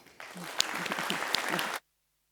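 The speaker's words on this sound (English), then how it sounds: "let's start with a warm applause for Jason Wirth" Lecture audience applauds to welcome a philosophy speaker, a dense burst of clapping lasting under two seconds and stopping abruptly into silence, with a few low voice murmurs mixed in.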